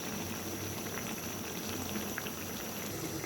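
Malabar spinach simmering with a hilsa fish head in a pot on the stove, giving a steady, even bubbling hiss that holds unchanged for the whole stretch, with no talking.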